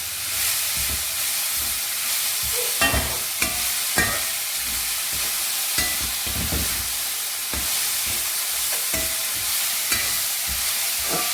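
Thazhuthama (hogweed) greens being stirred in a hot pan for a thoran, with a steady sizzle and hiss and intermittent scraping strokes of the spoon, close and clear, no talking.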